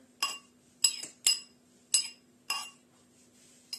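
A utensil clinks sharply against a bowl while a salad of roasted vegetables and red beans with dressing is stirred, about six bright evenly spaced taps, close and clear.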